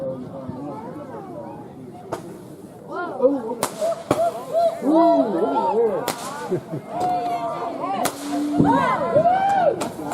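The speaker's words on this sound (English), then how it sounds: "Get rid of the fireworks right now!" Fireworks go off in a series of sharp cracks and pops, each one loud and distinct, spaced a second or two apart while people chatter and exclaim throughout.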